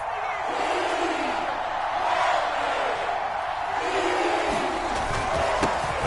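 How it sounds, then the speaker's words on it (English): Football stadium crowd noise at a live game building ahead of a big third down, a steady broad roar of cheering throughout under a commentator's voice. "the crowd getting into it as we come up on a big third down"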